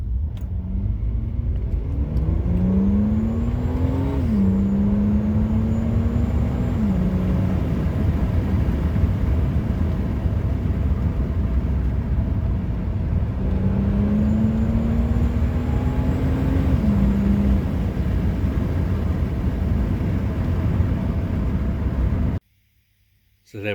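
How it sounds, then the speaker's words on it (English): A Ford XR6 Turbo with a four-speed automatic accelerates steadily on a test drive, engine rising through the gears with two clear upshifts over loud road rumble, then cutting briefly to silence near the end. "I'll go take the car for a quick drive now"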